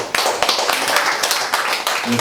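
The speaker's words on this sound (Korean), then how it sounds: "우리 그 가정을 축복하신 우리 하나님께 박수로 영광을 돌리겠습니다." A church congregation claps during a Sunday service, giving praise for the blessing of families. Dense, continuous clapping fills the room, with a few sharper claps standing out and a voice briefly audible near the end.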